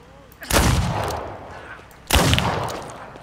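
Gunfire at zombies in the video game Contagion, two heavy booming shots roughly a second and a half apart, each with a long rumbling tail, loud and close.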